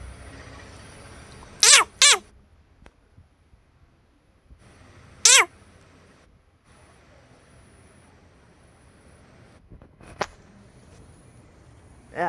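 A cat meows several times, two quick cries close together, then another a few seconds later and a fainter one near the end, with quiet pauses between.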